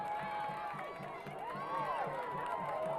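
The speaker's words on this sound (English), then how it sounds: "The crowd has gone from quiet to loud, and that's an understatement." A large crowd at a high school football game roars loudly and continuously, a dense wall of cheering and whooping with rhythmic chanting or clapping underneath, close and sustained throughout.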